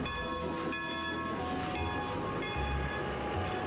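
A New Hope Railroad train passing in winter, a steady low rumble with faint rail clatter and tonal squeal, moderately distant and continuous throughout.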